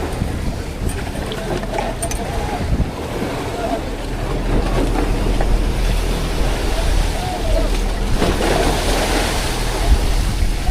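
Sea waves wash steadily around a boat off Surigao, a continuous rushing surge with wind buffeting the microphone, the swell growing louder in the second half.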